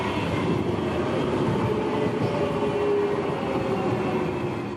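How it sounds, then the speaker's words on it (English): A Croydon tram braking as it comes out of a tunnel gives a steady, loud rolling rumble on the rails with a faint brake hum, close and continuous, easing slightly at the end. "As the tram emerges from the tunnel, watch and listen as the brakes are applied"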